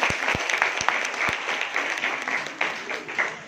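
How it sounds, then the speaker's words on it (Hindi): An audience claps steadily, a dense patter of applause with a few sharp nearby claps standing out at the start. "जोरदार से तालियां बजाते।"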